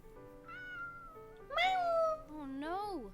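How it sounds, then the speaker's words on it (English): In the video game Perfect Gold, a cat gives three clear, drawn-out meows, the middle one loudest and the last bending up and down in pitch, heard alone and close. "Hey, kitty. Come here. Kitty!"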